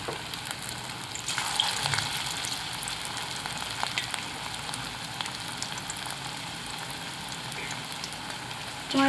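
Potato pakoras frying in hot oil, a steady dense sizzle and crackle held at an even level throughout, with no talking.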